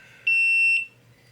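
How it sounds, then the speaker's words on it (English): A GoPro Hero 10 camera powers on with a single sustained electronic beep tone of about half a second, clear and close, over a faint low hum, with no talking. "So quite a bit of beeping, and there's a GoPro logo."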